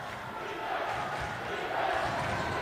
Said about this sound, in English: Home crowd now picking it up